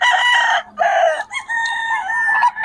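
A rooster crows loudly and close, a long drawn-out call broken by short pauses that fills the whole stretch with no one talking.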